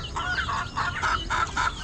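Chickens cluck in a steady run of short repeated calls, about six in quick succession, close and moderately loud over a faint background with no talking.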